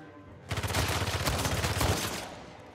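A dense burst of gunfire rattles for about two seconds in the shooter Uncharted 4: A Thief's End, rapid close shots packed together before trailing off into quiet.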